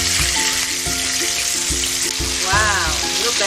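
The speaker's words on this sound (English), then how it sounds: "We fry our fish until it's brown and crispy. We flip our fish and cook the other side." Red snapper fries in a hot pan, a loud steady sizzle and crackle of oil with a faint voice underneath.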